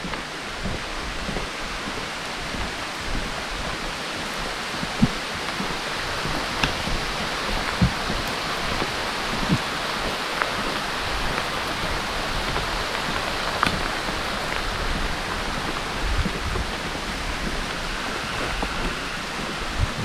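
Steady rain falls through a swampy floodplain forest on a boardwalk trail in Congaree National Park, a dense continuous hiss of drops on leaves and wood with a few louder nearby drips, no voices.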